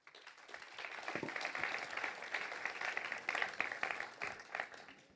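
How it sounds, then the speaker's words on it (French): Audience applause welcoming economist Bruno Parmentier, former director of ESA Angers, onto a conference stage: a sustained wash of many hands clapping at moderate level, steady throughout with a few louder swells, no voices over it. "Sous vos applaudissements."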